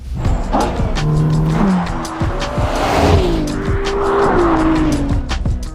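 Ferrari sports car accelerating hard, engine climbing through rising gear pulls with sharp tire squeals, loud and close, passing with roaring exhaust and shifting pitch.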